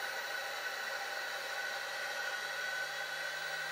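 A VEVOR 3 kW spindle motor, lying loose on a wooden panel, spins up toward maximum speed with a steady, loud broadband whir and a faint high whine, continuous and unbroken with no other sounds.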